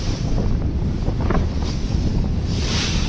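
Passenger ship Manami overtaking the MV M Khan 7 on the water, heard as a continuous roar of wind buffeting the microphone over engine rumble and rushing wake, steady and loud with no voices.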